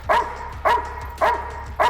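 A dog barks during a protection training session at an obedience seminar, four sharp loud barks at an even pace, close to the microphone with no talking.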